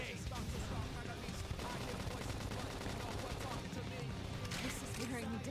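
A flame grenade goes off in Xenoblade Chronicles X amid a continuous rattle of gunfire and crackling combat effects. The battle noise runs dense and steady throughout at a modest level.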